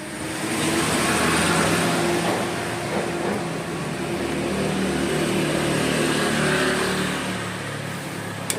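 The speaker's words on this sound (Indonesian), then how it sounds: "kita main-mainkan gasnya, oke normal" A Honda Vario 110 scooter engine, just after a carburetor service, revs loudly and steadily up close for several seconds, holding a sustained throttle before easing off slightly at the end, with no talking.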